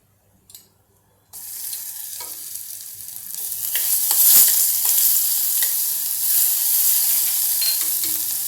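Thecha chili paste hits hot oil with a sudden loud sizzle after a brief quiet start, then keeps frying steadily as it is stirred, the hiss swelling midway and holding close and alone.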